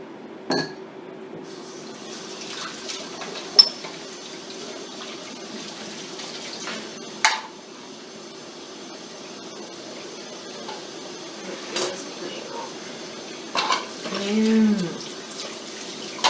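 Tap water runs steadily into a dish holding chocolate, a continuous close stream with a few clinks of glass and utensils and a brief gurgle near the end.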